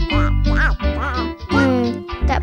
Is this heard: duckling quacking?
yes